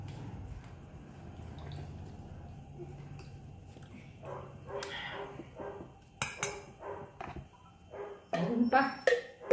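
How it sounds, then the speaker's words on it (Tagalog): A dog barks in short bursts amid clinking dishes and kitchen clatter, with people talking quietly underneath. "Ang ingay-ingay ng aso eh."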